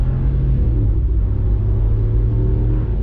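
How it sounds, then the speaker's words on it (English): A 2020 Ram Rebel off-road truck engine pulls under throttle as a steady, loud low rumble from inside the cab, with no talking. "All right, guys, back on throttle."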